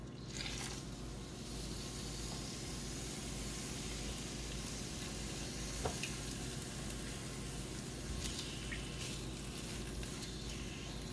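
Pork chops sauté in hot olive oil in a pan, giving a steady, loud broadband sizzle that runs unbroken throughout, with a few faint clinks and shifts over the frying.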